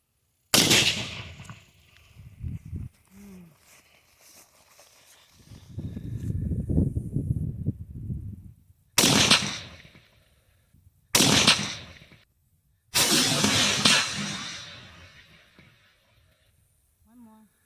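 Sharp, loud rifle shots from an HK-91 .308 and a Ruger Mini 14 Tactical .223 at a practice range, four separate blasts spaced a couple of seconds apart, each with a ringing tail, with muffled talk and rustling between them.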